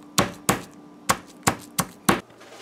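Garlic is pounded in a kitchen while making veggie chowmein noodles, six sharp, evenly spaced thuds close up with short decays, no talking.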